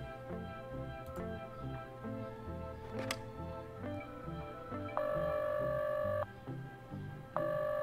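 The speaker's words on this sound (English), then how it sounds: "I could try phoning that phone number for the job application" Phone keypad tones in The Low Road sound as a steady run of electronic beeps and dial tones, with a sustained higher tone holding for over a second near the end, fairly quiet and without talk.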